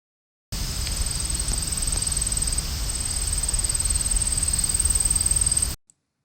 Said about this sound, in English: This is the call of the Carolina ground cricket.